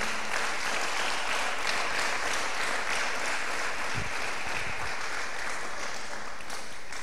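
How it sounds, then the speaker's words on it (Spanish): A church congregation applauds during a worship service, sustained dense clapping that fills the whole stretch at steady strength, with a couple of low thumps partway through. "Dele otro aplauso al Señor"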